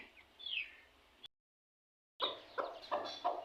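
Close, quiet clucking from a hen mixes with thin, high-pitched peeping from chicks, broken by a brief moment of silence.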